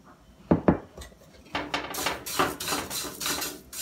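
Chivda made from poha is stirred and roasted in a pan, with scraping clinks of a metal spoon against the pan in irregular close strokes, brisk and fairly loud without talk.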